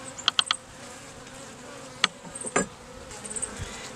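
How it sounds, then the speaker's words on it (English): Faint steady hum of wild honey bees in a hive with a few sharp ticks and short buzzy bursts, close by, no talking. "there are some bees in here."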